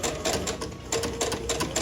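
Sewing machine stitching across a tote bag strap, a steady mechanical whir in several short bursts with brief pauses between runs, close and fairly quiet.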